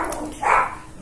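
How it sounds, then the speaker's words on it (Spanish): Dogs barking in a home, one muffled bark rising briefly above a steady background noise, moderately loud and not close. "No me dejan hablar estos perros, estas perras."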